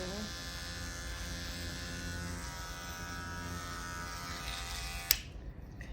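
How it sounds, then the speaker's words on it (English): An electric hair clipper trims and straightens a hairline, buzzing steadily and close for several seconds before switching off with a click near the end. "Then I'm going to take the corner of my clipper and just really straighten up this line."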